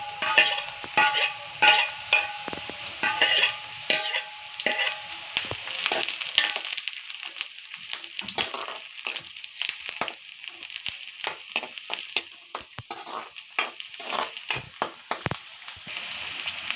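Onions fry until brown in a pan for a chicken and broad bean curry, a close, bright crackle broken by repeated scraping strokes of a stirring spoon.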